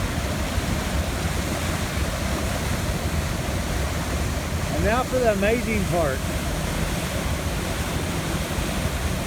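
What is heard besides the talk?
waterfall pouring into a pool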